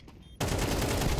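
Rapid automatic gunfire in Counter-Strike on the Dust 2 map breaks in after a brief quiet moment and continues as a loud, steady burst of close shots, with no voices over it.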